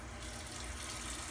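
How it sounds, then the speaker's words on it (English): Cold water runs steadily from a tap into a sink while someone washes their face after shaving, a soft continuous splashing stream heard close and alone. "Wash my face off with cold water"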